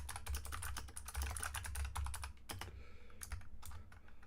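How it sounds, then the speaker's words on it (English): Rapid clacking keystrokes on a mechanical computer keyboard, close and crisp, in quick bursts with a brief pause near the end, no voices. "Probably mute my mic since I've got a mechanical keyboard."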